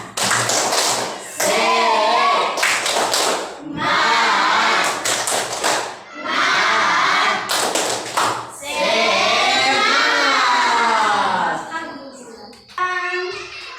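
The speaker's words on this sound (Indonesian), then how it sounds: "Ice breaking dulu ya. Ya. Tepuk semangat." A classroom of children performs the 'tepuk semangat' ice-breaking routine, bursts of rhythmic group clapping alternating with chanted voices in short repeated phrases, close and loud.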